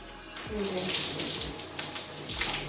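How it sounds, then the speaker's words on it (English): Water rinsing down a bathroom, a continuous close splashing rush like a running tap or shower spray over tiles and surfaces, with brief swells and no talk. "And then I'm going to rinse off all my products I've used. Get everywhere a good rinse."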